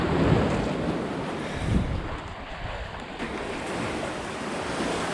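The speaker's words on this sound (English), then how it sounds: "We made it to the beach." Surf washing onto a beach, a steady broadband wash of waves with gusty wind buffeting the microphone throughout, no voices.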